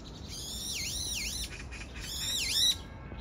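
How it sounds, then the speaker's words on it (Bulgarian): Agitated birds call in a commotion outdoors, with several quick sweeping chirps repeated in short bursts, moderately faint against a soft outdoor background. "Суматоха в птичия свят."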